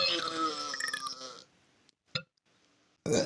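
A long, loud, croaking burp rolls out up close, followed by a quiet pause, a short sharp knock and then the start of another loud burst.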